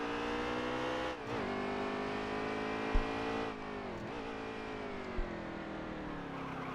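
Race car engines in an Xfinity Series racing game at Road America roar steadily through a turn, with the whine of close, sustained engines shifting pitch as cars pass.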